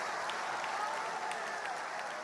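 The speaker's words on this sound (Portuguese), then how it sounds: "dá um aplauso a Ele" A church congregation at a prophetic conference applauds in a steady, even wash of clapping that holds at a moderate level for a couple of seconds, with faint voices underneath.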